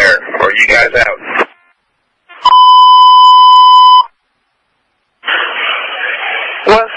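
A steady electronic fire dispatch alarm tone sounds for about two seconds at a working fire with a roof collapse and firefighter mayday, set between loud bursts of radio chatter and static.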